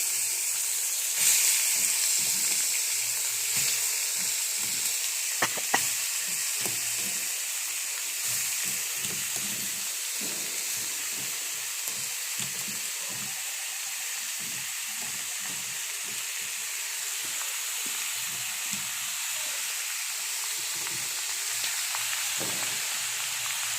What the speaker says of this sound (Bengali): এই যে এখন আমি শশাগুলো দিয়ে দেবো, শশা কাটাগুলো দিয়ে দেবো।